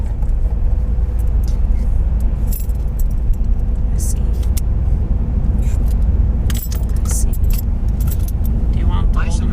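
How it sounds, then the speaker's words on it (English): Car keys jangle and clink repeatedly in short bursts inside a car on a road trip, over a constant low engine and road rumble, with a brief spoken remark. "I guess I could give it with the car keys"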